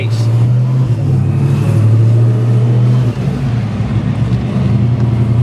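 A supercharged V8 Mitsubishi Pajero Evolution with a 10-speed gearbox drives along, its engine giving a loud, steady low drone from inside the vehicle, with a slight dip in tone partway through.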